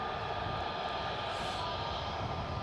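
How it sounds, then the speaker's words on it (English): An Aer Lingus airliner comes in to land very close over Edinburgh, its engines a steady broad roar that holds level and loud throughout the short stretch, with no voices. "here's our Aer Lingus coming in, very close"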